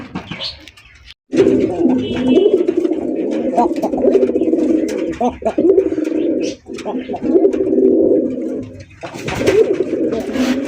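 A pair of Bombay pigeons coo in deep, throaty repeated calls, close and loud, in several bursts separated by short pauses.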